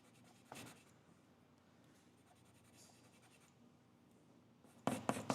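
A soft condensed charcoal pencil draws a realistic eye on paper, giving faint, steady scratching strokes with a louder rubbing burst near the end.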